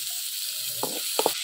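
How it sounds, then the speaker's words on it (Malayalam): Curry leaves and salt drop into hot oil in a pan in a village home kitchen, making a brief, steady close sizzle with a few sharp crackling pops toward the end. "ഇനിയിപ്പോൾ കറിവേപ്പിലയും കൂടി ഇട്ട് കൊടുക്കുവാണേ."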